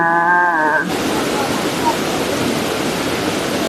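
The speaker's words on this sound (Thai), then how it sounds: "ชื่นชมบรรยากาศน้ำตกจากอีกมุมหนึ่งนะคะ" Waterfall roaring as a steady, loud broadband wash of falling water up close, starting after a brief tonal voice at the beginning and continuing unbroken to the end.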